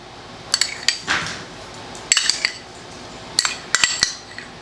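A spoon spreads marinara sauce on a homemade sourdough pizza base, giving a few clusters of sharp metallic clinks and taps with soft scraping between them, close and alone in a quiet kitchen.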